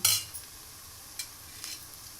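Chopped tomato hits onions frying in a pan for a crab curry, with a brief loud sizzle at first. Soft stirring scrapes and a couple of light utensil clicks follow over a low, steady fry.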